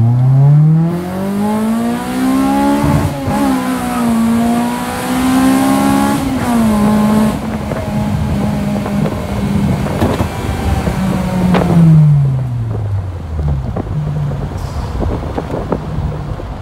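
An Acura RSX pulling hard from a rolling start, its engine rising in pitch through the revs, dropping at shifts, then climbing again, loud and close, before easing off toward the end.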